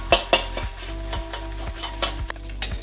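Eggs sizzle in a hot wok while a utensil stirs and breaks them up for moo shu pork, with sharp scraping clicks of metal on metal over a steady frying hiss, close and without talk.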